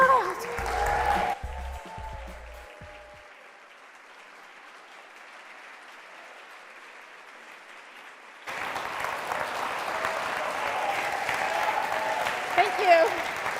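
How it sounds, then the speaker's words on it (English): Applause and cheering from a large audience at an arts center season announcement, starting briefly, dropping to quiet hall ambience, then swelling back into a steady, fairly loud wash of clapping. "And the crowd goes wild."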